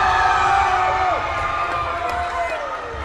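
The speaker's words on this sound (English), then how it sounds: "And the crowd goes wild for which was obviously a foul." A crowd at a women's college basketball game roars and cheers loudly in a gym, a continuous wash of voices with whistle-like tones sliding through and sharp shouts rising above the din.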